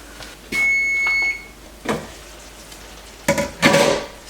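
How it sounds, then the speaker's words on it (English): A kitchen timer goes off with a short electronic beep during rice cooking for a Mexican dinner, followed by a few clattering kitchen knocks and handling noises nearby. "So our timer has gone off on our rice"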